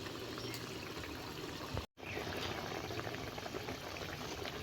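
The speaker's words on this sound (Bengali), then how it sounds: "আস্তে আস্তে ঝোলটাকে ফুটিয়ে নিয়েছি 5-7 মিনিট।" Mustard pabda fish curry gravy simmering gently over low heat, a steady soft bubbling that runs throughout, with one brief break partway through.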